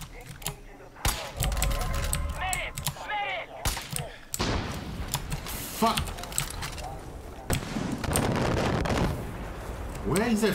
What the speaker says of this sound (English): That freaking mortar, man.